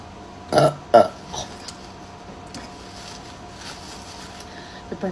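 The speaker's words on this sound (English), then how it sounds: "The burping demons, they're coming out of me." Two loud, close burps in quick succession near the start, followed by a quieter gulp and faint rustling, with a short burp-like sound at the end.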